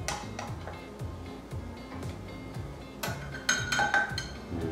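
A utensil scrapes rhythmically across the bottom of a pan while honey garlic shrimp cook with soy sauce and honey, repeated short scraping strokes with light clinks of metal, close and fairly quiet.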